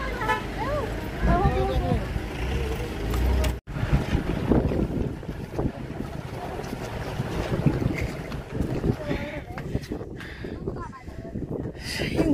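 Wind buffets the microphone in a steady roar throughout, with people talking underneath.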